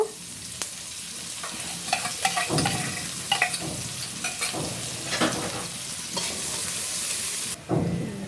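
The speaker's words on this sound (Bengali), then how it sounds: "মাছ ভাজা তেলের ভিতরেই আমি পেঁয়াজ দিয়ে দিব" Sliced onions frying in the leftover oil from fried fish in a pan, a steady close sizzle with repeated scraping and stirring strokes, and the hiss cuts off sharply near the end.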